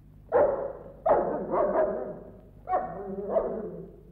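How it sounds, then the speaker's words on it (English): A dog barks several times in short bursts, a pair early and another pair later, fairly close with a slightly hoarse, mid-pitched tone. "it's no good Mungo barking at me"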